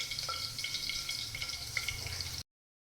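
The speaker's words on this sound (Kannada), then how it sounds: "ಈಗ ಎಣ್ಣೆ ಕಾದಿದೆ, ಸಾಸಿವೆ ಹಾಕೋತಾ ಇದ್ದೀನಿ." Mustard seeds crackling and sizzling in hot oil for a South Indian tempering, a steady frying hiss with scattered small pops close by, no talking.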